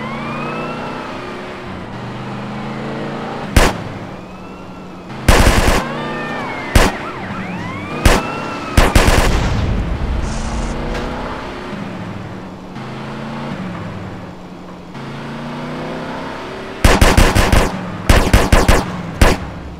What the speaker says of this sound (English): Dude, I'm trying to shoot!